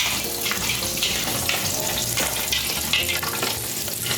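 Vegetables dressed with a little honey are tossed and stirred in a pan, producing a continuous loud sizzling, scraping rustle that stays steady throughout without any talking.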